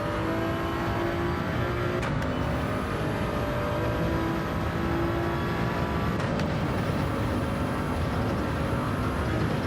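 A Toyota Supra race car engine in Gran Turismo 7 drones steadily at high revs throughout, a constant loud mechanical whine with a couple of brief gear-shift dips, no voices.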